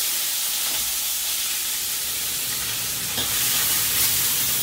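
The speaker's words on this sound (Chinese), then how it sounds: "我们把五花肉下锅，" Pork belly frying in a little oil in a hot wok with sliced ginger and dried chillies, a close, continuous sizzle and hiss that swells slightly toward the end, with no talking.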